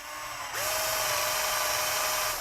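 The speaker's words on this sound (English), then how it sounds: "drill about halfway through with this 5 millimeter bit" A small power drill with a 5 mm bit spins up with a rising whine and holds a steady high-pitched buzz as it bores into material.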